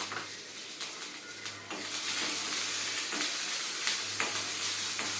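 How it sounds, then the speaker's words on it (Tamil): Curry leaves dropped into hot oil for a brinjal and jackfruit seed tamarind kootu, erupting into a loud steady sizzle after a few sharp pops, close up and without voices. "இப்போ இதில் கருவேப்பிலை போடுறோம்"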